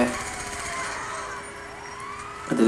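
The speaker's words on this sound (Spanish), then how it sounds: "aquí viene la ambulancia" An ambulance siren in GTA V wails continuously with sweeping rising and falling tones over traffic rumble, moderately loud and steady, ending with a brief louder clatter.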